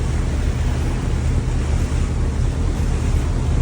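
A boat motors up a river near Plymouth, England, with a steady low engine rumble, splashing water and buffeting wind noise against the microphone.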